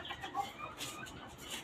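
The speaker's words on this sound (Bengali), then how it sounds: "আর এই হচ্ছে এখানে আমার আরেকটি হচ্ছে আপনার দেশি মুরগি।" Local desi hen, one of several farm chickens with a sore, wound-like rear end, clucking softly in a short burst of fowl calls at moderate distance.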